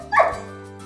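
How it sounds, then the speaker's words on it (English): A dog at a window gives one sharp bark at a friend, close and fairly loud, with a quick whimpering tail and then quiet. "Sometimes he would bark at her like a normal dog would."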